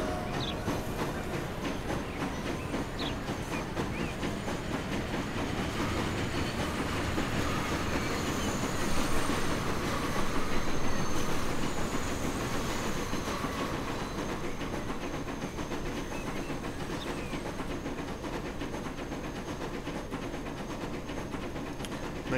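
A passenger train in the Transport Fever game runs along the line with a steady rolling rumble and rhythmic clickety-clack, loud and continuous, swelling briefly midway.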